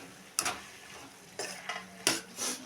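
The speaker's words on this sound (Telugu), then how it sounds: "ఇగో ఒకసారి కలుపుతున్నా చూడండి" A pan of tomato chutney with tamarind and garlic is stirred close up, giving a few distinct scraping strokes against the pan over a faint background simmer, with no voices.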